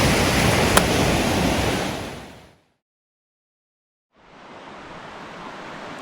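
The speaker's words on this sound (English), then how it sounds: "Well, this is a beautiful beach." Waves rolling onto a beach at high tide, a loud broad wash of surf that fades into near silence for over a second before the next wave's hiss swells back in.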